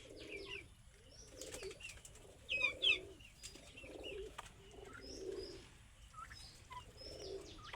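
A pigeon on a small farm with chickens and cattle gives soft, repeated coos in a steady rhythm, heard faintly from a short distance, with occasional small chirps from other birds in the quiet background.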